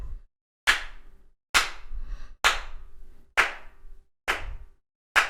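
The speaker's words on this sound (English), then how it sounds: "slow clap for that." Six sharp hand claps spaced about a second apart, each ringing out briefly before silence, a deliberately slow clap with no talking.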